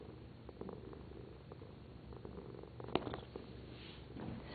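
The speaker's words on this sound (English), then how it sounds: "He's purring though." A cat purrs steadily up close, a soft continuous rumble with a few small rustles and one brief sharp click partway through.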